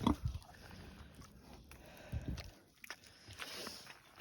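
Pigs on an off-grid homestead snuffle and shuffle close by, with low grunting sniffs in short bursts and soft footsteps and rustling between them, no talking.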